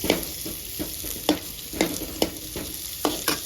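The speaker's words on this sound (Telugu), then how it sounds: "ఇప్పుడు ఇదే బండిలో ఉల్లిగడ్డ వేసి ఫ్రై చేసుకోవాలండి." Thick onion chunks fry in a pan, a continuous crackling sizzle broken by a rhythmic series of spatula scrapes and taps, close and fairly loud, without speech.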